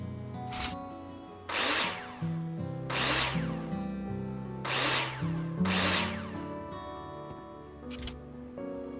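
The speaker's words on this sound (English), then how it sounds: "screw them in with a drill" Power drill in the Builder Simulator video game driving screws into metal profiles: several short whirring bursts, each a second or so long, separated by brief pauses, close and clear.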